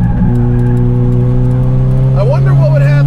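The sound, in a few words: 450 HP 1990 Lotus Esprit SE engine revving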